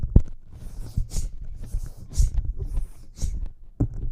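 Rapid, forceful nasal Bhastrika bellows breathing pumps in a steady rhythm, about seven sharp hissing puffs in a few seconds, close and fairly loud.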